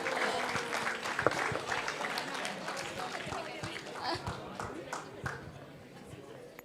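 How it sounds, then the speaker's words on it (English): An audience applauds at a college meet prize presentation, dense clapping from a large crowd with a few louder claps standing out, gradually tapering off. "Can we have a huge round of applause?"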